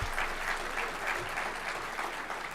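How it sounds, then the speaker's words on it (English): Applause from a conference audience at a political summit, a dense steady clapping that fills the whole moment at moderate loudness. "a round of applause for that"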